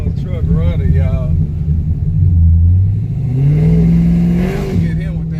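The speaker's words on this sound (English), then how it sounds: "Got that old truck running, y'all." An old truck engine revs at an outlaw grudge drag race, its deep rumble rising and falling in pitch over several seconds, close and loud, with people talking over it.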